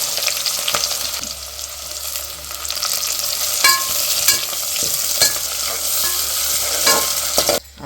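Onions, green chillies, curry leaves and bay leaf frying in hot oil for paneer pudina pulao, with a steady broadband sizzle and occasional sharp scrapes and clinks of a spoon stirring the pan, no talking.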